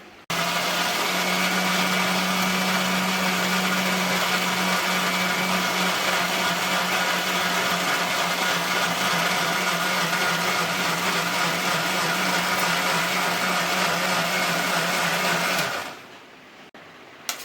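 Electric mixer grinder blending mango pulp for ras, a loud steady whirring drone that runs unbroken for about fifteen seconds and then cuts off abruptly.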